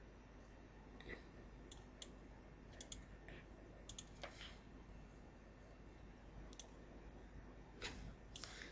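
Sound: typing on a computer keyboard

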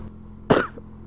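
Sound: cough

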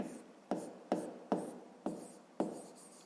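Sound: writing by hand

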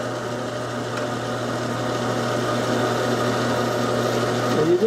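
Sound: lathe running while turning model car spoke wheels

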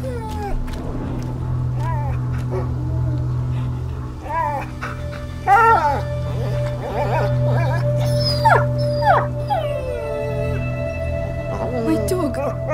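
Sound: dog whimpering and howling in video game A Plague Tale

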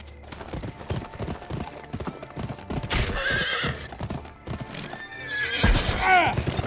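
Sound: horse hooves clip-clopping in the video game GUN

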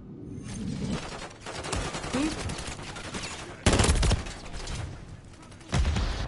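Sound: gunfire in Call of Duty: Modern Warfare 3 video game

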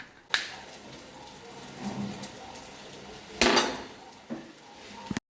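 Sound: crushing garlic in a mortar and pestle

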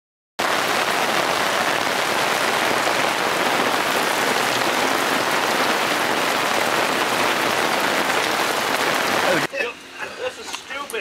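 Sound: rain falling

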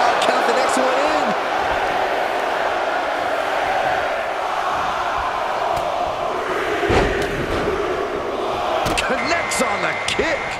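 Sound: wrestling arena crowd counting along

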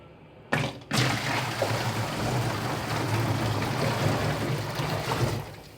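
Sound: pouring a bucket of water into a thermocol box tank

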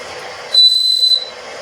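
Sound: child blowing a toy whistle

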